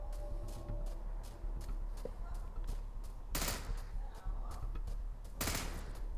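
Gunfire in the zombie shooter Into the Dead 2: two short, sharp bursts of rapid shots, three rounds per trigger pull, over a steady low hum and faint background clatter.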